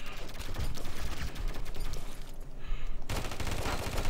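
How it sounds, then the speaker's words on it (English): Gunfire in the video game AfterPulse comes as dense, rapid volleys of shots, loud and continuous, with a brief lull before another heavy burst. "That's some good shooting on my part."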